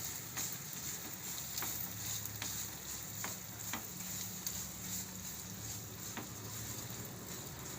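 Jaggery being stirred into a spoonful of melted ghee in a pan over low heat gives a soft, steady sizzle with faint scraping strokes at irregular intervals, all fairly quiet.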